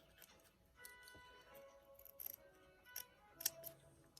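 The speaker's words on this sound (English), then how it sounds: "I'm going to cut that down and trim it down to about, that." Scissors trim fabric in a quiet room, a few soft snips followed by sharper crisp clicks of the blades closing, spaced irregularly over four seconds.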